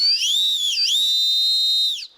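A special search whistle blown by searchers combing woods, one loud sustained shrill tone held about two seconds with a brief pitch dip midway, alone and close.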